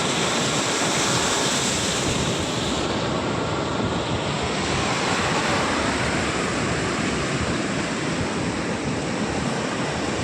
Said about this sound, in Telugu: అలలు కూడా చాలా పెద్దవి వస్తున్నాయి ఈరోజు